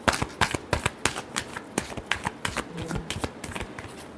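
Tarot cards being shuffled by hand, a rapid run of crisp riffling flicks and slaps in an uneven rhythm, close and clear with no talking.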